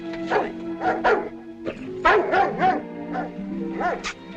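A dog in a 1944 film barks in a run of sharp, yapping bursts, some quickly doubled, spaced irregularly over a few seconds, close and fairly loud.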